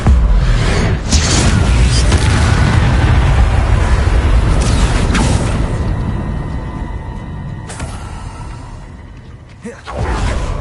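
Confringo blasting spell explosion in Hogwarts Legacy, a loud, dense booming roar with whooshing sweeps that fades gradually, then a sharp burst near the end, close and heavy.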